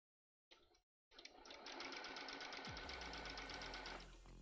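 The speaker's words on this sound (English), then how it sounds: "sewing machine sounds" A sewing machine runs steadily with a fast, even mechanical chatter after a brief start, close and loud, continuing for several seconds, while sewing 17th-century panniers.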